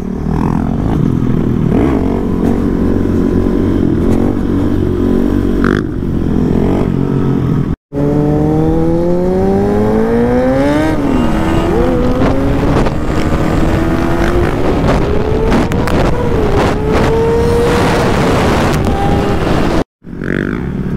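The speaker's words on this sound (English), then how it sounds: "Dirt bike." A Yamaha WR450 dirt bike engine revs hard and loud up close, the pitch rising and falling through repeated throttle bursts, broken by two brief cutouts.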